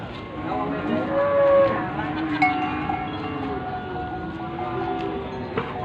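Large bulls at a cattle market, readied as Eid al-Adha sacrifice animals, give low moos among a steady crowd murmur and livestock bustle, with occasional louder lowing and a faint bell-like clank.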